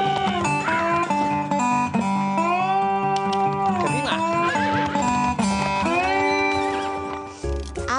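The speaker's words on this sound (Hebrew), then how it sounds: "ולרכוב על סוסים" Horse whinnies and neighs in a sequence of high, wavering calls that run almost continuously, loud and close, with no talk over them.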